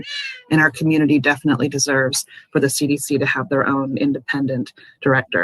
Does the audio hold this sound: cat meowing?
yes